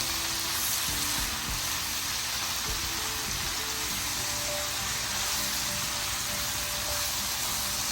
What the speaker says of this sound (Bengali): ভালো করে নাড়িয়ে চাড়িয়ে নিচ্ছে শাকগুলোকে।